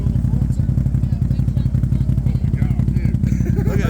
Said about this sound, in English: Dual exhaust. It sounds incredible. It's one of the best sounding quads I ever heard.